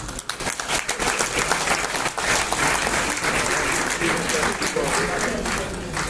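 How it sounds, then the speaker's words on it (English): Sustained round of applause from the audience at a memorial lecture, many hands clapping loudly and continuously throughout with a dense crowd sound, a voice briefly audible near the start. "I think Mama deserves a round of applause."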